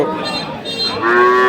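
A Holstein Friesian bull at a cattle market lets out a loud, close, sustained moo that rises in pitch toward the end, heard on its own without talk.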